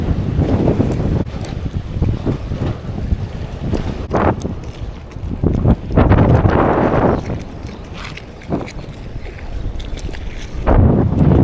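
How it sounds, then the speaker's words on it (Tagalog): Strong wind buffets the microphone in loud, gusty rumbles, rising and falling with occasional knocks, on an open boat beside a pier. "Lakas pa rin ang hangin."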